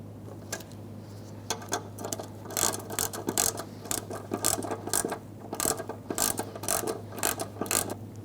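A hand ratchet clicks in quick, close bursts, pausing between strokes, while aluminum valve cover bolts on a 2002–2006 Toyota Camry engine are snugged down, over a steady low hum.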